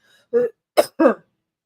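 A short throat clearing followed by two quick coughs, close and fairly loud, with silence around them.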